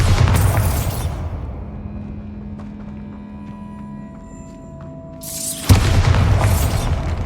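Bombarda explosion spell in Hogwarts Legacy going off, a heavy booming blast followed by a low rumbling decay, then a second loud burst near the end.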